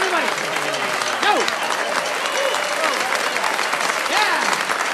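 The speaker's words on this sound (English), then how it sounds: "Give yourself a big round of applause." Audience gives a big round of applause, steady dense clapping with voices cheering and talking over it throughout.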